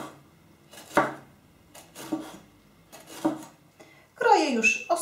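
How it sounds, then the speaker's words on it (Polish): A knife cuts a bell pepper into rings for a Bulgarian shopska salad, giving a few separate crunchy slices about a second apart, close and moderately loud, ending in a brighter rasping cut. "Paprykę kroję w niezbyt szerokie krążki."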